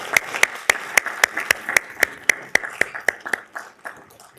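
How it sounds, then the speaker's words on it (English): Applause at a Fort Worth ISD school board meeting, heard as a sparse, uneven run of individual claps from a small audience, with sharp distinct hand strikes at a steady tempo that gradually thin out. "Let's give them a round of applause."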